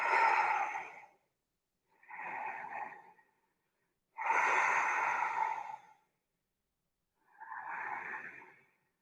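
Four slow, deep breaths during a relaxing yoga stretch session, each a long airy exhale separated by short pauses, close and fairly loud, with no talking.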